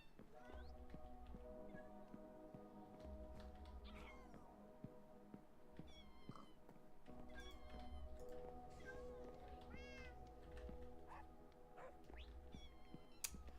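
Cats meowing in Minecraft, several high-pitched meows and mews scattered across the clip over a steady low droning background, fairly faint and close, with no talk.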